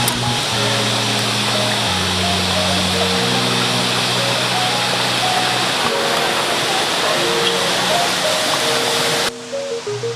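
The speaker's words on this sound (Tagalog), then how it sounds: "you can hear the sounds of the nature, the running cold water nga gikan sa babaw sa kabukiran" Cold mountain water rushing steadily on a roadtrip to Alimatoc in Negros Occidental, a loud, continuous broadband wash with music or hum tones playing over it until it cuts near the end.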